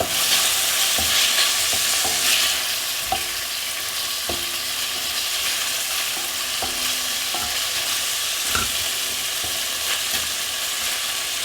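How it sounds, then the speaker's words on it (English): Sharwood's Szechuan noodles and sauce stir-frying in a pan: a steady loud sizzle throughout, broken by irregular scraping and clacking strokes of the utensil, with no talking. "Add the cooked noodles and sauce and stir fry for another 2 minutes."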